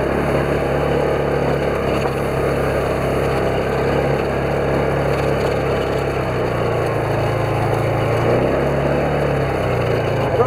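Polaris off-road vehicle engine running steadily on an Alberta farm, a constant loud mid-low drone with slight pitch changes throughout, no voices.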